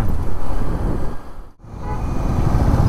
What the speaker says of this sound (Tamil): இங்கேயும் டிராஃபிக்கா.